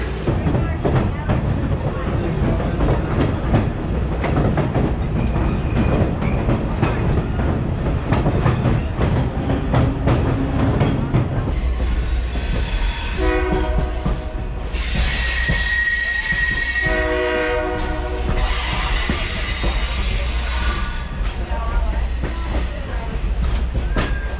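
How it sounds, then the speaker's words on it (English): A train rumbles steadily along the rails, loud and close, heard from on board a Blue Ridge Scenic Railway excursion train near Copperhill, Tennessee; high metallic wheel squeals then rise over the continuous rolling noise. "We're headed back on board the train for our ride back."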